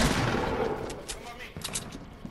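In a battle royale video game, a burst of distant rapid gunfire crackles and pops, with a dense rattle at first and then scattered shots, under player chatter.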